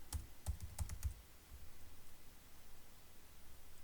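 Computer keyboard as a password is typed, a quick burst of soft clicky keystrokes in the first second over a faint hiss, then only quiet background noise.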